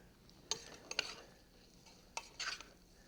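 Chicken giblets dropped into hot peanut oil or other cooking oil in a pan, giving faint sizzling with a few scraping stirs and clinks of a utensil against the pan, quiet throughout.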